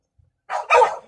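Dogs give two quick, close barks, one right after the other, after a near-silent start.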